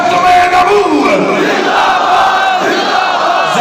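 A large religious gathering roars back a chanted slogan in unison, a loud, sustained collective shout that swells and slowly fades.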